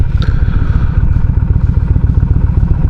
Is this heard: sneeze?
no